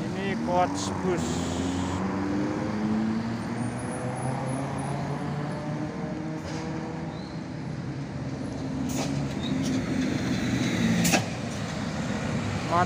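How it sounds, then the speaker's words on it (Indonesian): A tour coach bus moving through congested traffic, a low steady engine rumble with shifting tones, heard up close while a person talks over it. "Ini Coach Bus"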